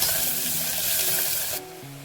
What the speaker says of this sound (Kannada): ಸ್ವಲ್ಪ ಸಾಸಿವೆ, ಸ್ವಲ್ಪ ಜೀರಿಗೆ, ಕರಿಬೇವು, ಈರುಳ್ಳಿನ ಬಾಡಿಸ್ಕೊಳ್ಳೋಣ ಎಣ್ಣೆಲೆ